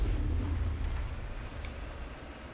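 Rocket explosions in the Mass Effect video game, a deep rumbling boom that decays over a couple of seconds, heard alone without talk.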